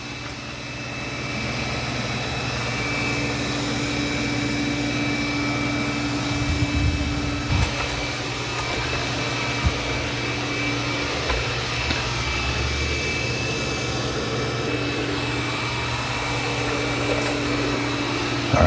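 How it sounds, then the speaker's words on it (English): A Roborock Qrevo Curv S5X robot vacuum runs steadily while vacuuming and mopping at once, giving a continuous whirring drone with a faint tonal hum that holds close and even throughout, with no speech. "So right now it's vacuuming and mopping at the same time."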